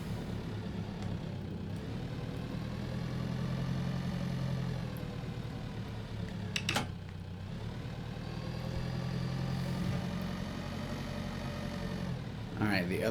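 A tractor engine idles in a video game with a steady low rumble that stays constant throughout, and a few brief clicks break in near the middle and the end.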